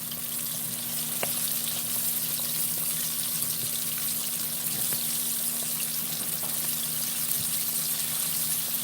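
Flour-coated chicken fries in a batch of hot oil, giving a steady, dense crackling sizzle that continues unbroken throughout, close and fairly loud with no talk.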